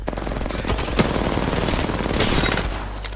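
Rapid video game gunfire crackles in a dense, continuous burst of close shots, loud and sustained for a few seconds with no pauses.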